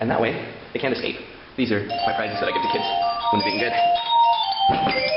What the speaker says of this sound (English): Bell goes off every half hour